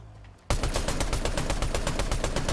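Rapid automatic gunfire from a weapon in Fortnite bursts in after a brief quiet moment, a loud, dense, steady stream of shots that continues to the end.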